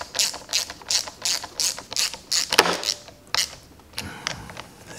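Bolts on a Westcoast Saw 462 air filter being run down with a ratchet, giving a brisk series of close, loud clicking pawl bursts in even rhythm, with a few louder clunks near the end and no voices.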